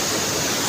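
Water rushes under strong pressure in a loud, steady, hissing roar that fills the whole moment, close by, with no voices.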